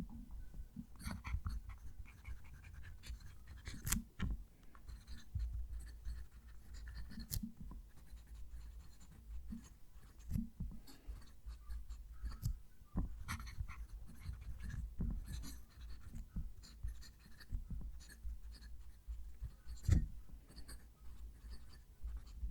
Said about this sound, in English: Whenever I use this pen, it really reminds me of writing with a felt tip.